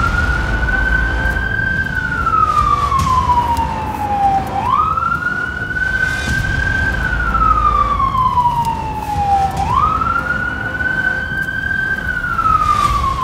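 An emergency vehicle siren sounds from a car driving through the streets of Budapest, a loud wail rising and falling in long sweeps over steady engine and road noise.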